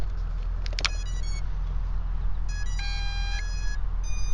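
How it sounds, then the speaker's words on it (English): Tones chirp from an Eachine EX2 mini brushless quadcopter as its battery is plugged in, a few short beeps and then a longer sequence of steady tonal beeps over constant background hum. "See, it beeps just like any other quad."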